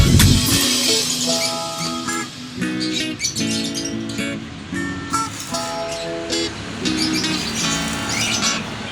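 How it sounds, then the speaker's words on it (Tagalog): A group of lovebirds squawking and chirping nonstop, loud and close, in harsh overlapping rhythmic calls with a faint clink or two behind. "May mga lovebirds nga pala kaya ang iingay"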